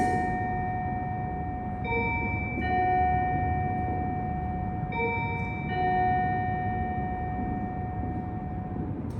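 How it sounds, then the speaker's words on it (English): A bell rings during a statistics lecture, sounding as sustained tonal strikes with long ringing overtones, two separate hits a few seconds apart over a quiet room hum. "So I was waiting for the bell."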